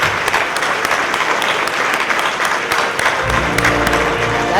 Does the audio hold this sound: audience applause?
yes